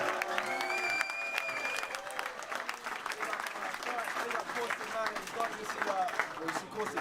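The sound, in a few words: crowd applause for MCs at a rap battle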